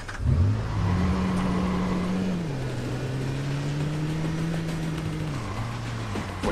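A car engine drones steadily during a chase in the Watch Dogs video game, a loud continuous hum that shifts pitch as it revs up and settles, with no one speaking.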